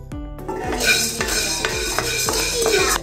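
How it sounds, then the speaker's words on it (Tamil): Black peppercorns dry roasted in a pan for a Tamil-style rasam powder, heard as a steady metallic stirring and scraping with a spatula, with clinks of utensil against the pan close up and no talking. "இப்போ குறுமிளகு வறுத்துக்கலாம்."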